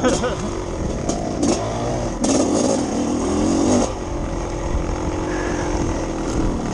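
Two-stroke dirt motorcycles ride on a dusty night trail, engines buzzing and revving up and down close by, with wind noise and people talking over the engines.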